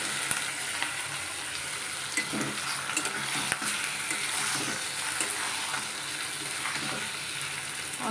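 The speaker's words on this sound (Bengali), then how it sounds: "মাংস দিয়ে ভাজা ভাজা করে নিই" Meat frying in a pan for a Bengali meat curry, a dense, steady sizzle and crackle close up, with faint stirring scrapes running through it and no voices.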